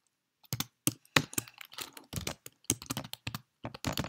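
Fast bursts of close computer-keyboard typing while code is entered, crisp clacking keystrokes in quick irregular runs with brief pauses, no voices.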